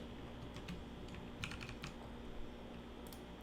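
Computer keyboard typing while code is written for a Swift app, a quiet run of scattered light keystrokes in small clusters over a steady low hum, with no voice.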